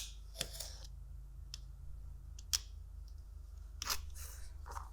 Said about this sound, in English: put it on my corner, and cut off the corner